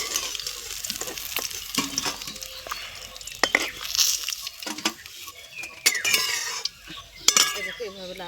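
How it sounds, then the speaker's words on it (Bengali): Pieces of rohu fish frying red in oil, a soft sizzle under sharp clinks and scrapes as a utensil lifts them out of the pan. "দেখো আমার মাছ লাল লাল ভাজা হয়ে গেছে, এবার তুলে নেব"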